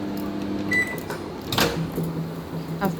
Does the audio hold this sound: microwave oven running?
yes